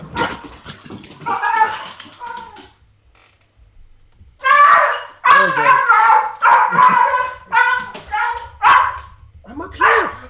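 Bagel the dog gives a drawn-out series of strained whines and wavering howls, pitched and mournful. The calls rise and fall in repeated bursts, close and fairly loud, after an opening call and a brief quiet gap, with people talking around them.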